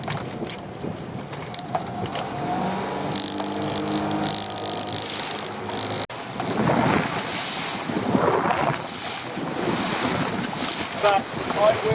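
A small fishing boat motors across the open sea, its engine droning steadily under wind buffeting the microphone and waves slapping against the hull.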